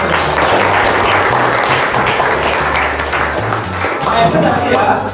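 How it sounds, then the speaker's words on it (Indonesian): Applause from students in a junior high school classroom, loud and continuous, with some voices mixed into the clapping. "Ya, berikan tepuk tangan."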